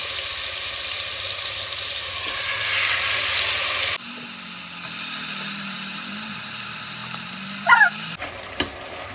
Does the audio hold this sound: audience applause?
no